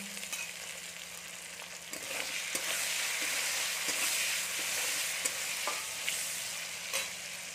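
Chopped tomato and green chili dropped onto lightly fried onions in a hot pan, a broad steady sizzle with occasional scraping stir strokes, close and fairly loud with no talking.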